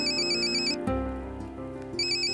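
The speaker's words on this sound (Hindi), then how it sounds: "ईशान का फोन" A mobile phone ringtone plays loud and close, a bright repeating electronic melody with sustained tones that carries through the whole stretch, with no voices.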